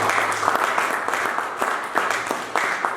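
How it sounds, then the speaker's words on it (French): A church congregation claps and applauds at a moderate distance in a steady, sustained wash of hand claps, with sharper bursts recurring through the three seconds and no voices on top. "Acclamons-nous, acclamons-nous."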